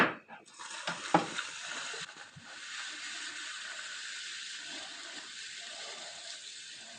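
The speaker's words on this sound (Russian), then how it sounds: "Далее аккуратно перемешаем все барной ложкой и дольем доверху содовой." A bar spoon clinks and swirls briefly in a glass while stirring a mojito, then a soft fizzing pour of soda water settles into a steady bubbling hiss.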